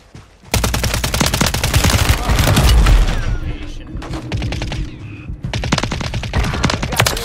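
Rapid bursts of WSP-9 submachine gun fire in Warzone 3, loud and close with fast rattling volleys, a brief pause in the middle, then more sustained firing.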